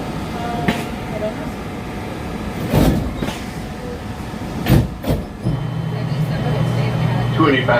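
Inside a Walt Disney World monorail train: a steady rolling rumble with a few louder jolts and a rising tone near the end, under announcements and talk.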